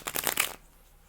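Light Seers tarot cards riffled in a quick shuffle, a crisp burst of rapid flutter and snaps lasting about half a second, then near silence.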